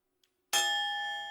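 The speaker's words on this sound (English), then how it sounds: "the bell just went off" A bell on a sports talk show strikes once, a sharp clear ding with a bright ringing tone that hangs and slowly fades after a near-silent pause.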